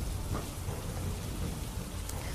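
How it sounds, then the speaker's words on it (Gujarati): Heavy rain pours steadily over villages during a thunderstorm, a dense continuous hiss with low rumbling thunder underneath, loud and close throughout. "પંથકના ગામોમાં વીજળીના કડાકા ભડાકા સાથે જોરદાર વરસાદ વરસ્યો હતો"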